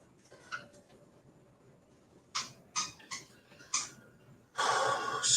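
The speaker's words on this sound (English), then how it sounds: "Excuse the squeaky noises. That's my dog." A dog makes a few short squeaky, snuffly noises close by in a quiet room, separate bursts spaced irregularly, then a longer louder rustling burst at the end.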